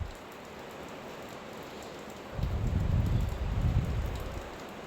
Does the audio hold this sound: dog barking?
no